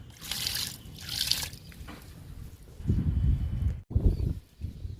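Liquid fertilizer is poured onto flowering vinca plants in pink, white and red, giving soft trickling and splashing bursts at close range, two brief hissy pours followed by heavier dribbles.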